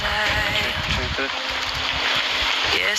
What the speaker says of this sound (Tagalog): May bangka na kayo